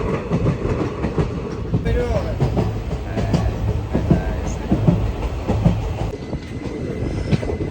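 A passenger train travels from Punalur back to Kollam Junction, heard from on board as a loud, steady rumble with rhythmic wheel clatter and occasional metallic squeals throughout.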